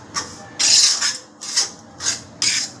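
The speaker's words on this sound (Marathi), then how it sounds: "असं 10-15 मिनटं असा हलवून घ्यायचा धीमी आचेवर रवा" Semolina is stirred in a pan over low heat for rava laddu, giving repeated scraping, rasping strokes in short bursts with brief pauses between them.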